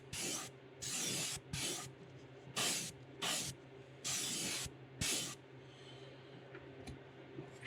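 Short bursts of airbrush spray lay candy paint over black on a fishing lure, about eight hissing passes of a second or so each, close and fairly loud, with quiet pauses between.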